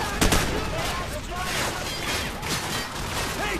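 Gunfire in Call of Duty Modern Warfare, with a sharp burst of shots near the start followed by scattered shots and clatter over a steady battle din.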